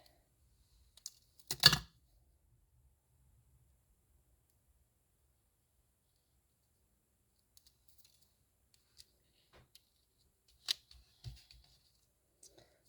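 Scissors cutting a foil-covered card sheet in half, a few brief, crisp snips and rustles close by, with near silence between them and no talk.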